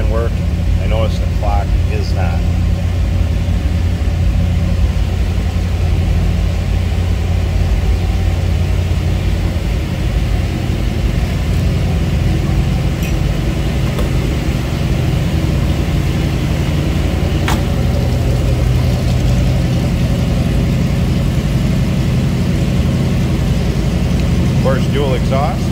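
1962 Chevrolet Corvette convertible with a 327 V8 and dual exhaust idling, a steady low rumble that holds evenly for the whole stretch, with a voice talking over it.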